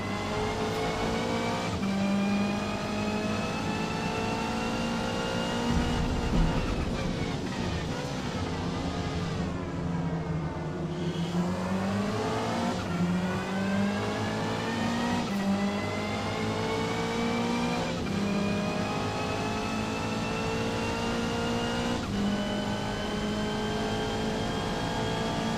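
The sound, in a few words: race car downshifting to first gear, Forza Motorsport video game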